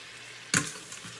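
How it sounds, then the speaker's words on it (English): Tomatoes fry in a pan with salt, giving a soft background sizzle, and one brief stirring scrape sets off a short burst of louder frying that fades quickly. "Give it a good stir."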